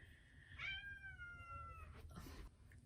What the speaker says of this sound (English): There are cats at the door.